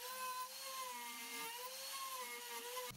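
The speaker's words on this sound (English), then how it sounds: "Plus drilled 2 holes for wires." A power drill bores holes into a pallet wood block, giving a steady, fairly faint whining drone that wavers slightly in pitch as it cuts for about three seconds.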